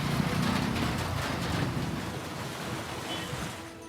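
Heavy unseasonal rain pouring down in Haryana, a dense steady hiss of downpour that stays loud throughout and eases slightly toward the end, with no voices.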